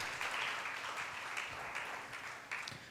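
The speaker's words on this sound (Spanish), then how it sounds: "Dele un aplauso al Señor." Congregation in a church applauding together, a steady, fairly faint wash of clapping that runs throughout without speech.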